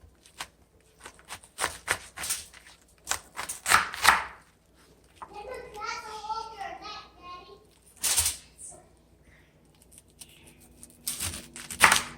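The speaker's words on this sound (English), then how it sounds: "So now I'm just going to cut my cabbage. I'm going to cut it into wedge pieces." A knife cuts a head of cabbage into wedges on a board, giving a series of sharp, close chopping thuds and crunches in uneven bursts, with a soft crackle of leaves between cuts and brief speech.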